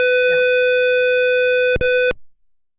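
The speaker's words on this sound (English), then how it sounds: "when you press the buzzer, you'll be getting a buzzer sound" A piezo buzzer on a microcontroller board sounds when a push switch is pressed: one steady, loud, harmonic-rich electronic tone that holds for about two seconds, then cuts off abruptly.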